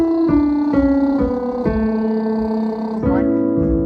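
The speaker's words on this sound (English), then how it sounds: "or you can do on a lip trill or a lip buzz." A voice sings a buzzing lip trill in a steady sustained tone, stepping through a few pitch changes, close and fairly loud.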